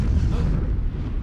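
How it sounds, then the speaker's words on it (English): A thunderous explosion in a video game: a dense, loud low-frequency rumble that fills the whole brief moment with a heavy, sustained roar. "You hear a thunderous explosion."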